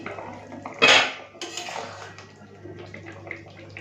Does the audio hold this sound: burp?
no